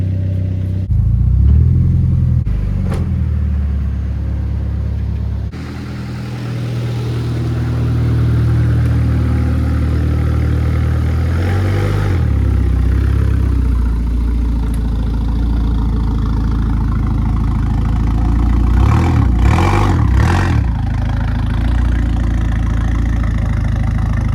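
A 1988 car engine idles steadily for a long stretch, a low rumbling drone with brief thumps and shifts in tone as it is moved, fairly close and without talk.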